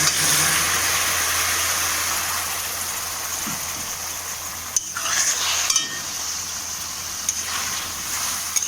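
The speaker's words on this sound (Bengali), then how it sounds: "এই মশলাটাও ভালো করে একটু কষিয়ে নেব" Spice paste with cumin, coriander, ginger and chilli frying and being stirred in a pan with browned onion and garlic for a Bengali crab curry: a steady close sizzle with occasional scraping clicks, no voices.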